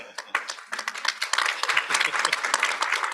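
Conference audience applause, dense and steady clapping from many hands lasting a few seconds, fairly close.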